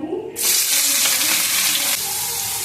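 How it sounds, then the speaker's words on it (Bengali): Chopped onion drops into hot oil left from frying peanuts, setting off a sudden loud, steady sizzle that crackles on without pause, with a faint running-water hiss behind it. "এবার এই তেলে আমি পেঁয়াজটা দিয়ে দেবো"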